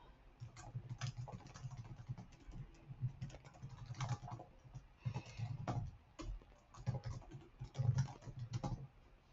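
Rapid keystrokes on a computer keyboard while text is entered into an online NIH biosketch form: close, dry clicks in uneven bursts, continuous throughout with brief pauses and no talk.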